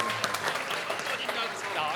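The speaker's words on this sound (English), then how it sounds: "please give him a big clap" An audience claps and applauds at a live comedy or music panel show, with a steady patter of many hands and voices talking over it.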